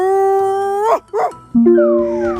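A voice imitates a dog, giving drawn-out howling whines and short yelps, loud and close.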